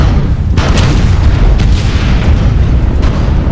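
Deep, rumbling booms from airstrikes in the game MechWarrior Online fill the space, one sustained loud roar of explosions with heavy low-end.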